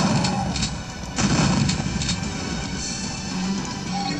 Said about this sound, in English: What a shotgun.